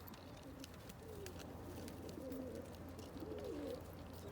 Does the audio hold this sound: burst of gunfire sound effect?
no